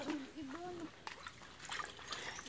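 A small mountain stream trickles and splashes faintly nearby, with a brief voice at the start and scattered splashy clicks.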